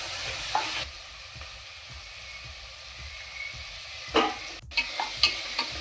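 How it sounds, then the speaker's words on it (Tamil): Onions, tomatoes and a green chili frying in a pan, a close hissing sizzle with regular scraping stir strokes and a few sharp clatters of the spoon near the end. "2 வெங்காயம் தக்காளியை போடுறாங்க"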